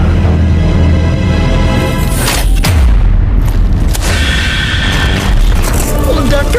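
Explosions rip through a futuristic tech city in a Mobile Legends video game cinematic, with loud booming blasts and crackling debris over a dense roaring backdrop, and a voice may be heard underneath.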